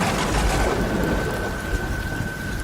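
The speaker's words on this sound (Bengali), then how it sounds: "মেঘের গর্জনে গাছ কেঁপে উঠছে।" A cartoon storm of heavy rain with a deep thunder rumble fills the scene, loud and continuous, with no voices.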